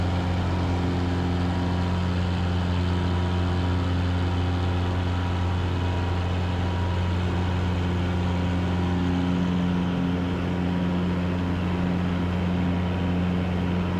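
A Cessna Cardinal's engine runs at full takeoff power, a loud, steady, unbroken droning roar with strong low harmonics that holds constant throughout, with no voices over it.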